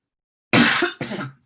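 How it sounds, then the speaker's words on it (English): A person coughs twice in quick succession, loud and close, a harsh burst followed by a shorter second cough, during a talk at an astronomy club speaker series. "We're going to get through this without coughing."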